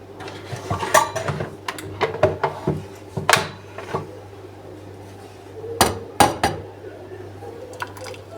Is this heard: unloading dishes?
yes